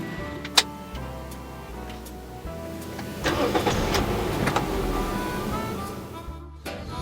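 A 2008 Toyota Yaris S automatic starting up: a sharp click, then the starter cranks and the engine catches into a steady close idle, with ticking sounds around it.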